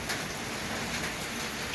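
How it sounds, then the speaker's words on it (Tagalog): Heavy rain pours down outdoors in a dense, unbroken hiss, loud and steady for a brief moment. "Ang lakas ng ulan oh."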